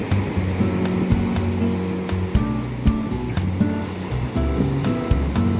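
Ocean waves and surf on the coast of Ghana, West Africa: a steady, loud wash of breaking surf that swells and recedes continuously, with no voices.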